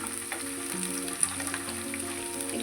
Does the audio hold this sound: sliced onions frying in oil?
yes